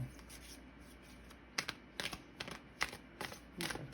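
Tarot cards are shuffled in quick bursts of rapid riffling, several short flurries close by, starting after a moment of quiet.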